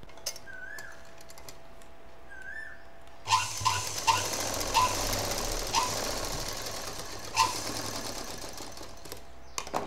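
A sewing machine stitches the ends of a homemade khadi-style cloth bag shut, starting after a few quiet seconds and then running in a steady close mechanical whir with a rapid rhythmic needle clatter and occasional louder knocks.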